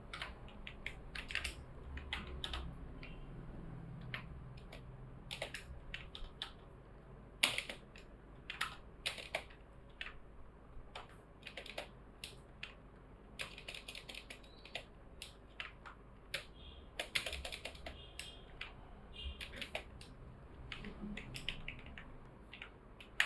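Fingers type on a computer keyboard in steady bursts of quiet clicky keystrokes with brief pauses, fairly faint and close, with no talking.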